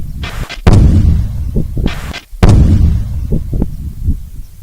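Army personnel set off a controlled detonation to destroy a bomb near Bikaner: two heavy, booming blasts a couple of seconds apart, each followed by a rumbling tail and faint debris pops.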